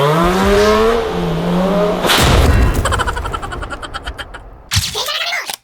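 A Yamaha R25 motorcycle engine revs close by, with a rising and falling tone that breaks into a loud rough burst and then continues in uneven pulses.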